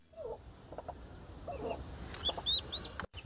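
A hen clucks softly to her newly hatched chicks, low clucks mixed with the chicks' high thin peeping nearby, quiet and close.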